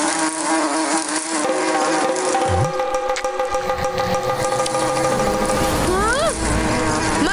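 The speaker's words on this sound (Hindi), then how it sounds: "मधुमक्खी, भागो दाऊ।" An angry swarm of bees in an animated cartoon buzzes loudly and steadily the whole time, a dense droning hum with a few pitch swoops, and voices briefly speak over it.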